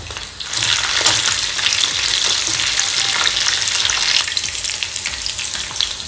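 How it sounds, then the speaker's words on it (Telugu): Chicken pieces deep-fry in hot oil over a medium flame for restaurant-style chilli chicken, a loud, close, continuous bubbling sizzle with occasional stirring, no voices. "ఇలా ఫ్రై చేస్తున్నప్పుడు ఫ్లేమ్ని మీడియంలో ఉంచుకొని ఫ్రై చేసుకోవాలి, లేదంటే లోపల చికెన్ అనేది కుక్ అవ్వదు"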